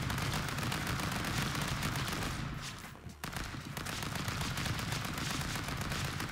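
Sustained AK rifle fire in Stick Fight, a relentless rattling stream of shots that briefly dips in the middle before resuming at full density, heard alone without voices.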